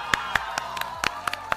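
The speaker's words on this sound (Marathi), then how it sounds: "जोरदार टाळ्या महेश जांभोरेसाठी" Applause at an awards event for the best dance creator winner, with a few sharp, separate claps close by, loud and spaced irregularly.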